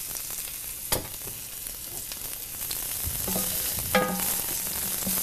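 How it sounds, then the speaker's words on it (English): Fresh mushrooms hit a hot pan and fry with a steady close sizzle, a sharp crackle as they land and a few clanks of utensil on metal, no one speaking. "this pan is nice and hot. Throw in these fresh mushrooms"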